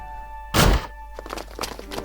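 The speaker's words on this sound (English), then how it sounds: "the door opened with a bang" A door bangs open in the visual novel Princess Evangile: one loud, abrupt thud that fades quickly, followed by faint background murmuring.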